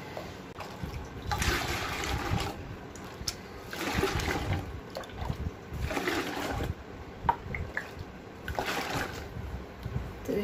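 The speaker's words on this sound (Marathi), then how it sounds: "हे सगळं गाळून घ्यायचं आहे." Wheat milk for kurdai is poured and strained through a cloth, giving a continuous close splashing and trickling of liquid with rising and falling surges and no voice.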